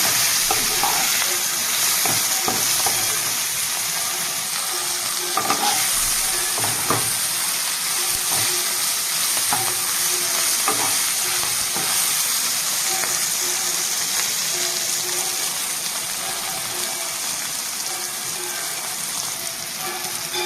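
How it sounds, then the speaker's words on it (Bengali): Taro stolons (kochur loti) fry in a pan, a loud continuous sizzle and crackle close by, with repeated scraping stirs of a spatula throughout. "লতিটা অনেকটাই ভাজা ভাজা হয়ে গেছে"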